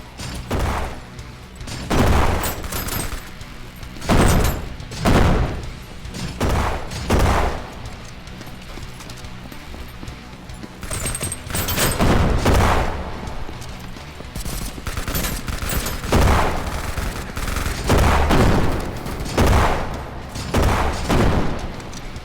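Repeated grenade launcher blasts in Kinki Spiritual Affairs Bureau, a series of heavy booming explosions spaced a couple of seconds apart over a dense, busy game soundscape.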